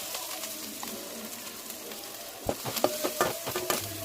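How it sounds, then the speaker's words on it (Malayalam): Ginger-garlic, green chilies, chili powder, turmeric and salt sautéing in a pan for tomato rice, a soft sizzle at first, then louder scraping stir strokes over the frying in the last seconds. "വീണ്ടും വഴറ്റണം"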